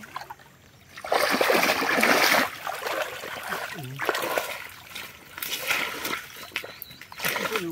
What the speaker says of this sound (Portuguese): Tenta abrir ali. Que a água vai descer.